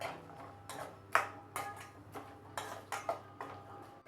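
Garlic being stirred in a pan for garlic pickle: a run of quiet, irregular scraping and clinking of a utensil on metal, several distinct strokes in a row.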